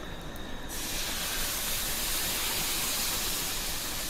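Rava dosa batter hits a smoking-hot tawa and bursts into a loud, steady hiss that fills the whole clip after a brief quieter start.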